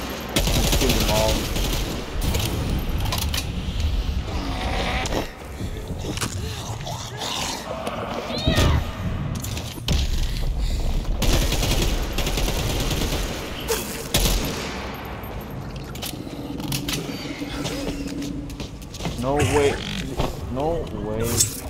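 Heavy automatic gunfire from the zombie shooter Dead Island 2, with long rattling bursts and scattered single shots throughout a chaotic fight, mixed with game noise and frequent talking.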